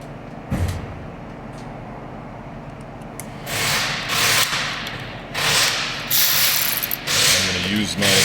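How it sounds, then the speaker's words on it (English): An electric ratchet with a 14mm socket snugs down bolts during a Honda Odyssey timing belt job, whirring in several short bursts separated by brief pauses, close and fairly loud over a quiet garage background. "I'm going to use my electric ratchet to get these snugged down"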